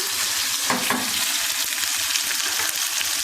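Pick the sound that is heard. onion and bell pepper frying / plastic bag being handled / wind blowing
onion and bell pepper frying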